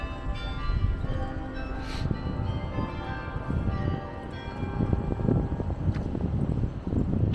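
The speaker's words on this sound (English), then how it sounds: "that bell is still ringing" A bell rings on the main square of Bruges, Belgium, in a steady, sustained peal over wind noise and outdoor ambience.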